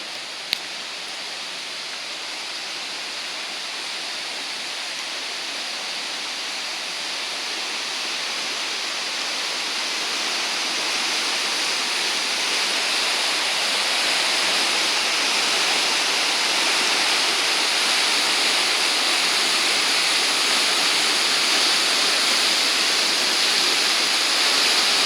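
Spring water at Big Spring State Park bubbles up out of the ground as a dense, steady rushing hiss that grows slightly louder as the listener moves closer, with no voices.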